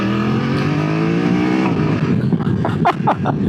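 BMW F900 XR motorcycle engine pulling hard under acceleration, a loud continuous rising drone with strong low harmonics, then a rougher shift into gear with brief rasping bursts near the end.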